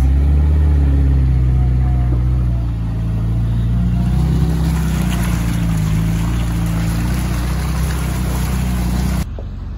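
A Suzuki 4x4 called Susie revs hard through mud, its engine droning loud and steady close by for several seconds with a rising strain partway through, then cutting off abruptly near the end.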